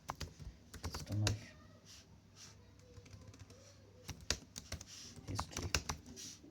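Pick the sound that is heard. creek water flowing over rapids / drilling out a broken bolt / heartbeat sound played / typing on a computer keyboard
typing on a computer keyboard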